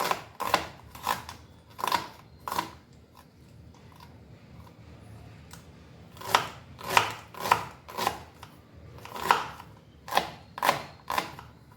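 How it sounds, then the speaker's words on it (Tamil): A knife chops onion finely on a board in a kitchen, with a few quick cuts, a pause, then steady rhythmic bursts of close, crisp chopping. "இப்போ நம்ம இந்த 2 கப்புக்கு தேவையான அளவு வெங்காயம் எடுத்துக்கலாம். அதை நம்ம பொடுசா கட் பண்ணிக்கலாம்."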